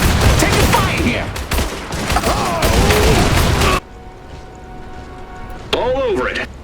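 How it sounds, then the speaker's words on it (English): Gunfire in Iron Harvest: loud, continuous bursts of shooting mixed with voices over the first half, then a quieter stretch with steady tones, and a brief sharp sound near the end. "Taking fire here"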